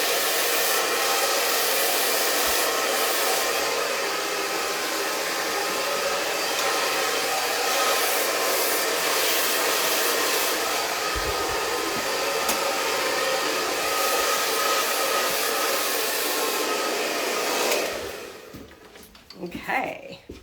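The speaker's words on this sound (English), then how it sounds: "So just blow drying this under." A hair dryer blows steadily and loudly at close range while a fringe is dried under during a bangs haircut, running continuously for about eighteen seconds before cutting off.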